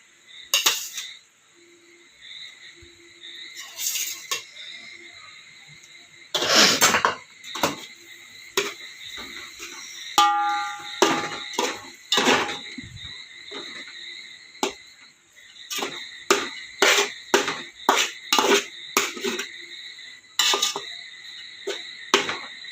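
A utensil scraping and clinking against a pan as spiced rice is stirred for fried rice, an irregular run of sharp metallic taps and scrapes, some quick bursts and some brief pauses, close and fairly clear.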